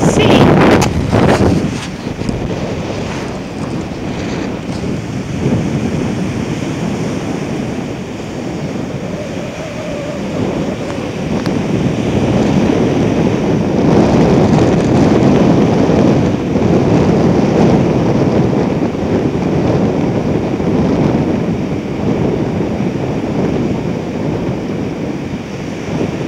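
North Sea surf washes onto the beach at The Hague, a broad, steady roar of breaking waves. Heavy wind buffets the microphone throughout the long stretch, and no voices are heard.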